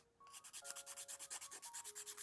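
Nail file rubbing gel polish off fingernails during a manicure, quiet close rhythmic back-and-forth scratching strokes in a fast, even series.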